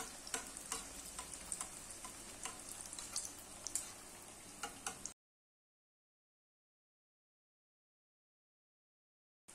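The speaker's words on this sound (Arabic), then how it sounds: "هنا عندنا واحد المعلقه اللي تنعملوا بها هكا الزيت يجي فوق من الغيفه باش تتنفخ" Rghaif dough fries in hot oil while more oil is spooned over it, a close, busy sizzle and crackle with small ticks from the spoon, ending abruptly in silence.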